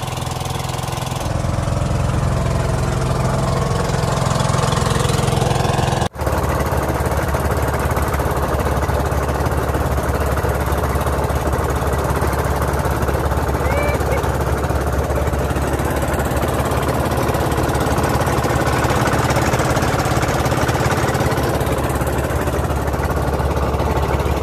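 A small boat's engine runs on the water in Quezon, droning loud and steady from start to finish with a constant mechanical chug and one brief break in the noise.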